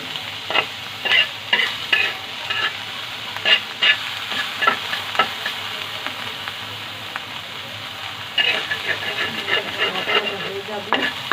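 Ingredients for a bottle gourd peel mash sizzle in a pan, a steady frying hiss broken by repeated rhythmic scrapes and knocks of a stirring spoon, close up and without voices.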